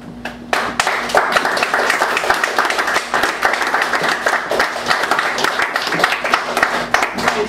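Audience applause at a poetry festival after a poem is read, a dense, steady wash of many hands clapping throughout, fairly close and sustained without letting up.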